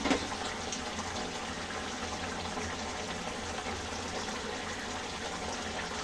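Cut yardlong beans rinsed under a running tap in a home kitchen, a steady close gush and splash of water holding level throughout with no talking.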